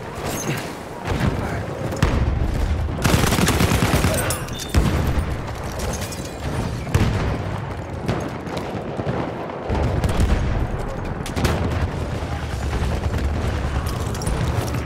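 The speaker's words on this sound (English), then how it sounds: "Machine gun over there!" Battlefield 1 combat with dense machine gun fire, continuous loud rattling volleys mixed with booms and explosions throughout, close and chaotic, with shouted battlefield voices faintly under the din.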